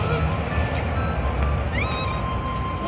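A kitten meows a few times at moderate volume, short high cries over a noisy outdoor background with light household commotion.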